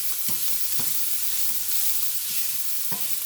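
Spicy sausage frying in a pan gives a constant loud sizzle, while a fork breaks it up with several soft, irregular scraping knocks against the pan; nobody speaks.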